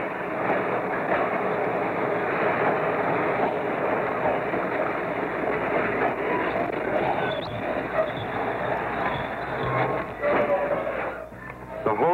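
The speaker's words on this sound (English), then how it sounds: "The locomotive finally rolls out of the service area and is coupled to the waiting train." New York Central locomotive rolling out of a freight yard service area and coupling to a waiting freight train, a steady loud rumble of rail noise with a brief clank near the end.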